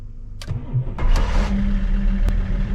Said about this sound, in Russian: Пробрались в BMW и запускаем.